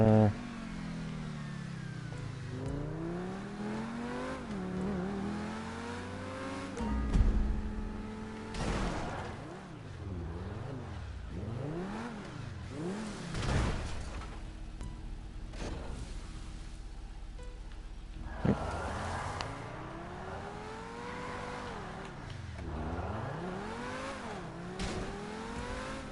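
A car engine in GTA 5 Online revs over and over, the pitch sweeping up and down through repeated accelerations and gear changes, steady and fairly close, with occasional bumps and knocks.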